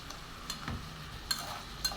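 Filling in a frying pan with oil is stirred by hand, giving faint scrapes and soft clinks of a utensil over a low sizzle, with a few sharper knocks, and no talk.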